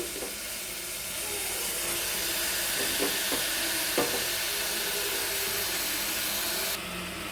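Minced mutton keema cooking in a pan with curry leaves gives a steady, loud sizzling hiss that fills the whole stretch, with a few faint clinks from a utensil.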